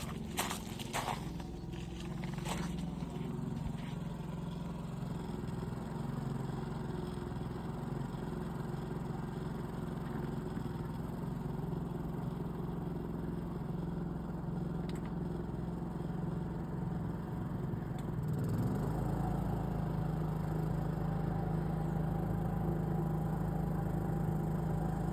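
A Predator 220cc gasoline generator runs steadily for the whole stretch, a close, even low drone with a brief clatter near the start and a slight rise in tone toward the end.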